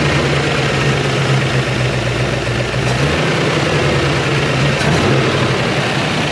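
A Chevrolet Malibu's small-block V8 idles with a low, steady rumble and a slight stumble, close and loud, with a brief dip in the low tone partway through and no talk.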